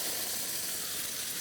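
Scalded milk hitting a hot pan, a steady bright sizzle and hiss that holds evenly for its short length with no voices.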